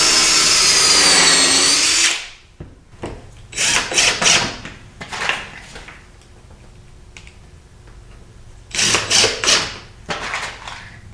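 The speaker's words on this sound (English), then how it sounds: "And then I'm going to put some screws in." Power drill driving screws into wood: a long, steady whir up front, then several shorter spurts and clicks with pauses between, close and fairly loud.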